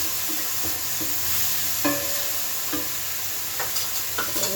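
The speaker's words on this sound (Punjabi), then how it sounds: "ਮੈਂ ਅੱਜ ਜਤੂਨ ਦੇ ਤੇਲ ਵਿੱਚ ਬਣਾ ਰਹੀ ਗੋਭੀ ਨਾ" Cauliflower frying in olive oil in a home kitchen, with a steady close sizzle and several clattering stirs of the pan over it, no voices.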